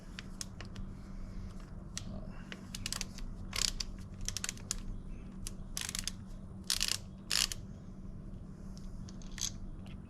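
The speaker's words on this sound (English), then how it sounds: "so as simple as pulling that bolt out" A bolt being worked out of a Lidlox helmet lock on a Harley Low Rider S, making a run of close, crisp metallic clicks and ratcheting scrapes in uneven bursts, with no voices.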